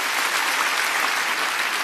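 Theatre audience applause at a live comedy show in Italy, a dense, steady wash of many hands clapping close and loud throughout, with no voice over it.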